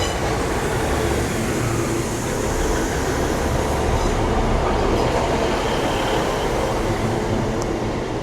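A Northern class 152 train departs Doncaster station on a service to Scunthorpe, giving off a continuous, loud, close rumble of engine and rolling wheels that holds steady throughout.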